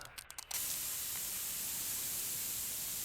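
Steady close spray can hiss in Car Dealer Simulator, a broad continuous rush starting after a brief clicky moment and running unbroken to the end, alone without talk.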